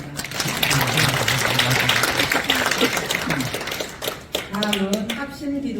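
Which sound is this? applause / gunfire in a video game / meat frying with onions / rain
applause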